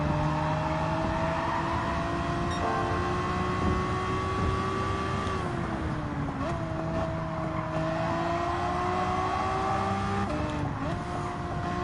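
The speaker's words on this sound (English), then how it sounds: "Just pop out the exhaust by having an anti-lag system." A Gran Turismo 7 race car with an anti-lag system, its engine droning steadily at high revs with pitch dips at gear shifts and occasional sharp exhaust crackles, heard up close and alone for several seconds.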